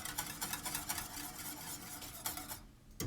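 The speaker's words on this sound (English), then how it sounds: "So every couple of minutes, give it a whisk, wipe the sides down." A whisk scrapes and stirs vanilla bean rice pudding in a pot, with quick steady ticking strokes close up, fading near the end.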